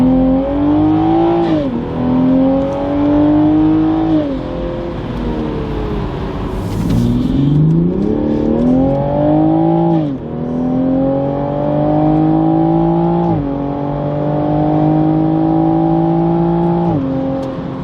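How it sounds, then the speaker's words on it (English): A Toyota Supra A90 fitted with a cold air intake and aftermarket exhaust revs repeatedly in sport mode, each pull climbing and easing back, loud and close with a deep steady engine tone. "The exhaust and the intake, the way they sound together with that sport mode"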